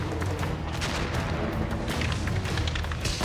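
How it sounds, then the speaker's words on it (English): Boxes of ammunition burn in a wind-driven wildfire at a campsite, giving a dense, loud barrage of rapid popping and booming rounds over a constant roar of flames. "There's bullets going off, propane bottles."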